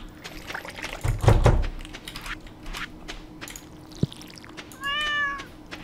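A cat meows once near the end in the farming video game Stardew Valley, a short clear rising-and-falling cry after soft game sounds, a single thunk and a brief vocal-like burst earlier.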